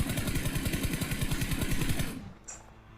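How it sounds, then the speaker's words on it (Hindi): Rapid automatic gunfire in BGMI, a loud, tight burst of evenly spaced shots for about two seconds, then it cuts off and a single short metallic click follows in near silence. "तो उसी डायरेक्शन में मैंने दूसरा फायर दिया"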